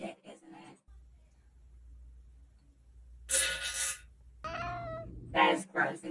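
A cat meows a couple of times at close range while chasing someone, with short voiced cries between stretches of a low steady hum, and people talk before and after.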